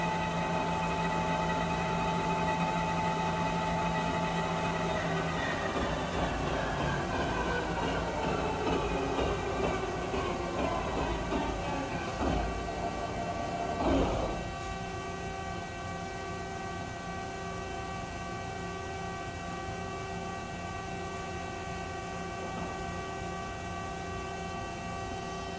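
A 2008 Mazak Integrex e650H mill-turn machine's spindle turns at 300 RPM, giving a steady layered whine and hum with a tone that slides downward midway, plus a short rushing swell, with no voices.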